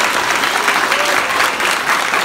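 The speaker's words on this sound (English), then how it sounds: "a big round of applause for Steven Ogg." Audience at a fan convention applauds for actor Steven Ogg, a steady, dense wash of clapping from a large crowd that fills the whole moment without pause.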